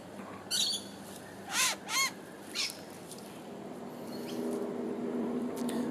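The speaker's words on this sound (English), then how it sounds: "The little groan in the background from the noisy miner, that is a typical call of there is a predator lurking around" A noisy miner gives harsh alarm calls signalling a lurking predator: a few short, rasping bursts in quick succession outdoors, moderately distant, over faint ambient background.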